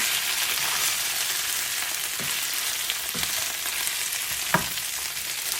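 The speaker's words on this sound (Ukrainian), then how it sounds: "Наша пельмешка жариться." Leftover pelmeni dumplings fry in a pan with a constant hiss. A few faint scrapes and taps of stirring break through now and then, and no one speaks.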